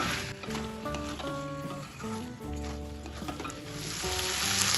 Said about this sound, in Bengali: চিংড়িটা দিয়েও আমি আবারও কষিয়ে নেব